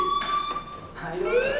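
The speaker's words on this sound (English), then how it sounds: "do you hear that fire alarm? That means you should be outside." Fire alarm ringing in a school building in the video game Life Is Strange, a steady high electronic tone that holds, then shifts into rising pitched sweeps, fairly loud and heard alone.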